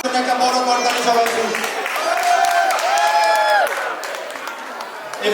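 An audience at a winter cake festival (Pitha Utshob) breaks into applause, steady clapping running beneath a prominent voice.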